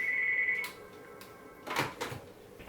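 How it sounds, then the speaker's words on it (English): A telephone ringing briefly in a room, a single faint electronic ring tone fading as a door or cupboard knocks nearby. "phone was ringing there"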